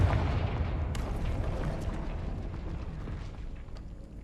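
A Confringo blasting spell explodes in the Hogwarts Legacy video game, a loud boom followed by a long rumbling, crackling tail that fades slowly over a few seconds.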